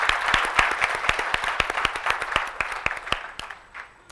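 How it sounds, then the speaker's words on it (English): Applause from an awards-night audience: a few sharp, distinct claps over a soft crowd patter, moderately loud and tapering off toward the end. "Let's give them all a round of applause."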